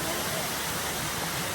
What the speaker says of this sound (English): You're looking at a nice waterfall right behind you.